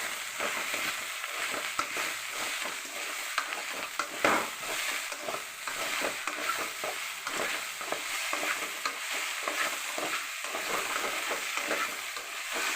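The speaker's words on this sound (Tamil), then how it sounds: "எண்ணெயில் வறுத்து வச்சுருக்க வெண்டைக்காவை கொட்டிக்குவோம்." Oil-fried okra is tipped into a pan and stir-fried in oil, giving a dense, continuous sizzle broken by rapid scraping and tossing sounds, close and fairly loud, with no voices.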